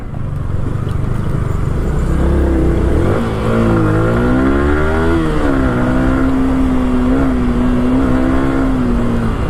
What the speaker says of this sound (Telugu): ఎంత బాగుంది సౌండ్ ఇంజిన్ సౌండ్